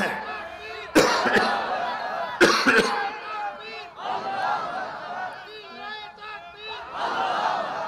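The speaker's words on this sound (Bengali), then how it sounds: "কারা কারা আছেন তাকবীরের মাধ্যমে দেখাতে হবে লিল্লাহে তাকবীর। দেখি তাকবীর দেন।" A religious gathering's crowd shouts takbir in loud, ragged bursts of massed voices, two sharp peaks standing out amid ongoing chanting and chatter from many people.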